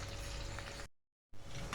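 Steady crackling and sizzling of hot oil as green chillies temper, broken by a brief silent gap before the frying resumes.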